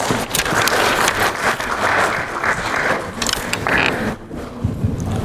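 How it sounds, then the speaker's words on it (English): Applause rises from the audience at a CII Partner Summit roadshow event, a loud, dense wash of clapping with some rumbling handling noise, easing briefly near the end before resuming. "Please welcome me with a warm round of applause."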